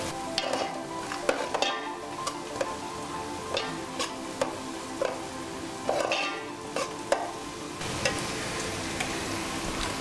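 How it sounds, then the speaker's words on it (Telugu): Pomfret fish pieces fry in a pan as turmeric is stirred in, a continuous sizzle broken by sharp, irregular spatula clicks and scrapes, close and moderately loud, with no talking. "పసుపు కూడా వేసుకొని ఒకసారి కలిపేసుకుందాం."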